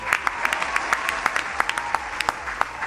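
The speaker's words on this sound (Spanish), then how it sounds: "Aplauso para Pedriño." A small group claps briefly during an exercise session, with a few sharp, distinct hand claps at an uneven rhythm over a soft background.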